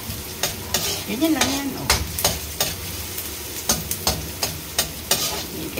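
Garlic sizzles in a frying pan while a utensil stirs it, giving a steady frying hiss under repeated sharp scrapes and taps against the pan. A voice speaks briefly over the cooking.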